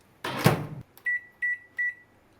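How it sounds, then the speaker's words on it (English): A door clunks shut, then an LG MC2841SPS microwave oven gives three short, evenly spaced beeps as it starts defrosting, with a faint hum beneath in a quiet room. "So I'm going to thaw it in the microwave"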